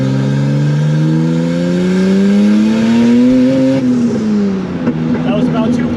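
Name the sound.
turbo widebody BMW E30 exhaust pops on gear shift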